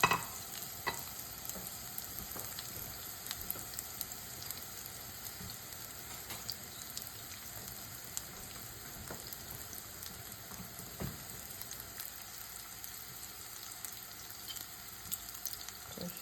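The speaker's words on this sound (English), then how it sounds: "so I'm gonna stir fry onions here." Onions stir-fried in a hot pan make a continuous, even sizzle with intermittent scraping strokes of a utensil, close-up and moderate in level, steady for the whole stretch with no speech.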